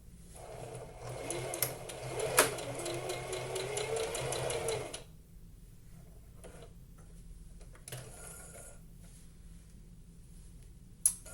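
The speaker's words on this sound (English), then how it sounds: "now to the sewing machine" A sewing machine runs a fast, steady stitch across an old fabric scrap for about five seconds to check threading and tension, then stops, leaving quiet room tone with a couple of light handling clicks.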